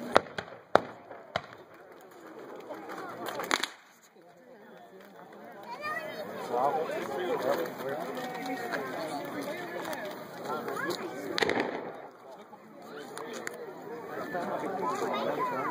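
Muskets fire at an American Civil War re-enactment as scattered sharp cracks, a few early and others later, over steady crowd chatter and outdoor noise.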